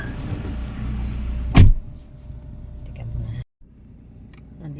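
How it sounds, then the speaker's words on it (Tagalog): Someone gets into a car: a loud car door thud lands early amid outdoor ambience, followed by a quieter interior, another door close with a sudden drop to silence, then a faint cabin hush. "Pasok na tayo sa sasakyan"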